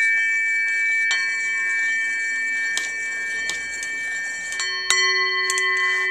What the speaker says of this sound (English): Oh, singing bowl.